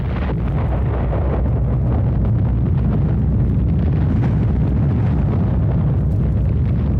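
Atomic bomb dropped on Nagasaki's Mitsubishi armament factory detonates in a loud, sustained roaring rumble that fills the whole stretch with dense low-end blast noise and wind-like turbulence, no voices.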